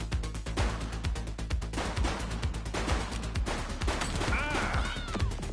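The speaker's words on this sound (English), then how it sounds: "He's shooting!" Gunfire in The Precinct, a police video game, comes as dense rapid shots in quick bursts over a constant background rumble, with a faint whining sound near the end.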